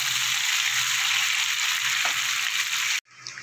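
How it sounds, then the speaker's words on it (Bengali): Paneer pieces fry in a pan with a dense, steady sizzle held at close range for about three seconds, then cut off abruptly before a fainter hiss returns. "পনিরগুলো আমার হালকা করে ভেজে নিয়েছি"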